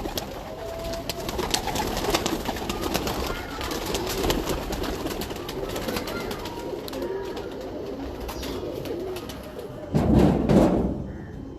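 Pigeons coo continuously at a rooftop loft in Lahore, a dense, close chorus that carries on throughout, with a brief knock-like burst near the end.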